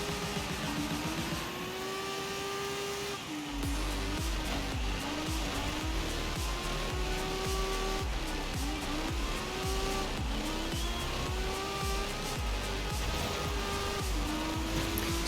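A rear-wheel drive race car in the rally game DiRT 5 revs loudly and keeps rising and falling through gear changes. Bursts of tire squeal and skidding run through the whole stretch, and there is no speech.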